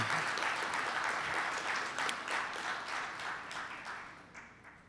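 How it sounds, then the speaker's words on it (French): Audience applause for contest winners at a closing cocktail and symbolic cheque ceremony for small businesses, a fairly distant, steady wash of clapping that gradually fades over about five seconds. "un applaudissement pour les gagnantes du concours et pour les 25 gagnants aussi du projet RESAS"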